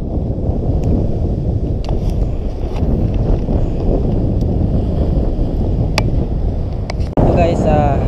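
Strong wind buffets the microphone in a continuous low roar, with occasional clicks and a sudden gust near the end.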